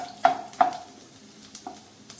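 Chopped garlic stirred in a pan while frying for a fenugreek-greens dish, with a few scraping, clattering stirs against a soft, faint sizzle, close and without speech.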